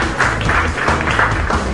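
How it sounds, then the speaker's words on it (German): An audience at a festival opening applauds the artists, a steady, fairly loud rush of clapping with a low rumble underneath throughout. "bitte Applaus für die Künstlerinnen"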